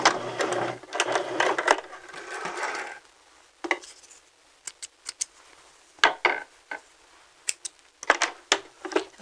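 A sewing machine running a back stitch on fabric, a steady whirring stitch run at first, then a series of short separate bursts with quiet gaps between, near and alone.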